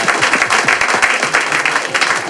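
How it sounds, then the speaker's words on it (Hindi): A comedy show studio audience breaks into applause, dense and fairly loud clapping with individual claps audible, continuous through the short stretch with a hint of crowd noise. "बल्बासोर के लिए तालियां बजाओ"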